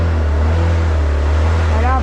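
SYM Orbit 125 scooter engine running steadily after being restarted, a loud continuous low hum with a rising whine near the end.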